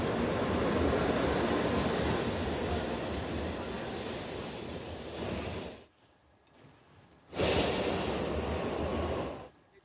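A steady whooshing rumble fills the cabin of a Japanese Shinkansen bullet train running from Osaka to Tokyo, dropping briefly to near quiet before the roar returns.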